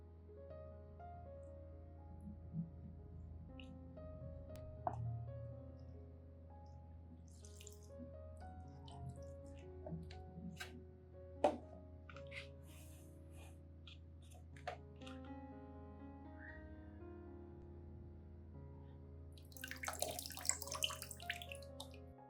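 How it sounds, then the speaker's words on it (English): Rice water trickles and splashes onto orchid growing medium, a quiet, irregular pouring with scattered drips and soft taps, ending in a brief louder splash. "pour the rice water onto the growing medium"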